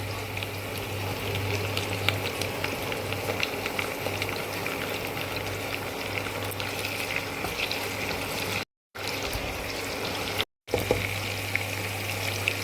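Capsicum fries in hot oil with onions in a pan for egg chilli, giving a steady close sizzle with a constant low hum and faint stirring scrapes; two brief silent gaps interrupt it.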